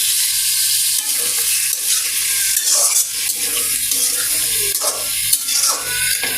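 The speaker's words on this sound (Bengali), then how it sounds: "তো বিরিয়ানি রান্না করতেছি আমি যে পেঁয়াজ ভাজার মধ্যে মাংসটা দিলাম" Meat sizzles loudly and steadily as it is stirred through fried onions for biryani, with scraping and clattering stir strokes over a constant hiss from start to finish.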